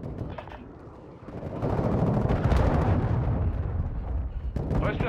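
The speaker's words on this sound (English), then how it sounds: "Launched a cruise missile." A cruise missile launches and explodes in Call of Duty Modern Warfare II: a heavy, booming roar swells and holds loud for several seconds over faint background game noise.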